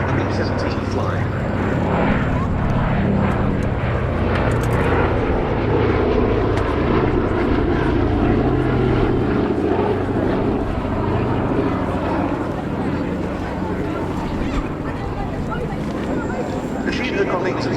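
A B-17 bomber, Sally B, roars past at the Duxford Battle of Britain airshow, its piston engines droning loud and continuous with wind buffeting, while a commentator speaks over the top.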